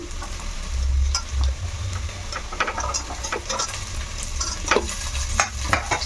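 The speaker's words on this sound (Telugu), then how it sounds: "ఇప్పుడు క్యారెట్లు ఒక రెండు క్యారెట్లు ఇలాగ పెద్ద సైజువి వేసేస్తున్నాను" Carrots, two large ones, being stirred and fried in a pan for paneer pulao, with a steady sizzle and scattered scraping clicks of the spoon against the pan, close and moderately loud, with no talking.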